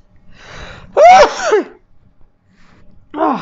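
A single close, loud sneeze bursts out mid-clip after a sharp intake of breath, followed by a quiet pause and the start of another vocal sound at the end.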